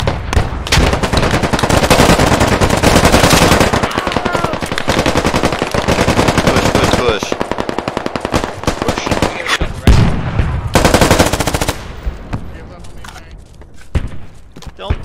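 Sustained bursts of automatic machine gun fire in the tactical shooter game Squad, loud and dense for most of the stretch with rapid overlapping shots, thinning toward the end, while players shout over the combat.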